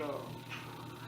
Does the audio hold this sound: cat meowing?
yes